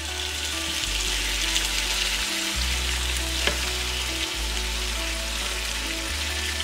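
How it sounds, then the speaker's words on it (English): Bacon fries in a pan with a constant close sizzle and crackle, and steady low music runs underneath. "Just gonna let the bacon fry up."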